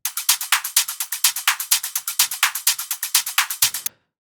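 Filtered sixteenth-note hi-hat loop in an electronic dance production, a rapid, even run of bright crisp ticks with varying loudness, playing alone and stopping abruptly near the end.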